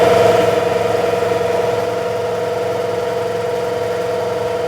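A New Holland TL-90 turbocharged diesel tractor engine runs under increasing load, a loud, steady, low droning hum with strong tonal throb, close up and without speech.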